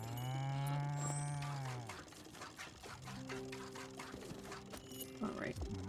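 A cow gives one long, loud, close moo, then low animal sounds and rustling follow, with a faint pouring, liquid sound and a person talking briefly near the end.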